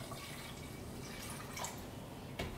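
Water runs from a container onto about 150 grams of brown sugar for caramel, a faint, steady trickle with a few small splashes near the end.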